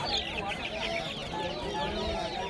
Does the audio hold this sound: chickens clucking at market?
yes